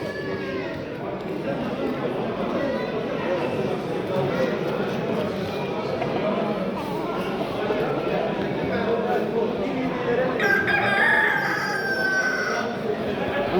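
Several roosters crow at a poultry fair over a noisy, busy background of chatter and clucking, with a brighter, louder crow near the end.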